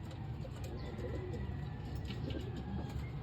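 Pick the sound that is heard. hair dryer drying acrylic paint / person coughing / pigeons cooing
pigeons cooing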